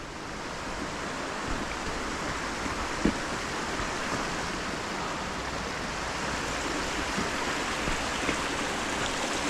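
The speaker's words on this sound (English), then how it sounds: "the little streams will be running down the hill" A stream running down a hill rushes steadily and continuously, close by, a full broadband babble with no voices and no pauses.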